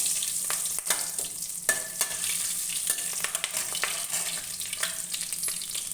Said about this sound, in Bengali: এবার কড়াইতে দিয়ে দিয়েছি তেল, দিয়ে দিচ্ছি একটু দুটো গোটা তেজপাতা আর অল্প একটু গোটা জিরে ফোড়নে।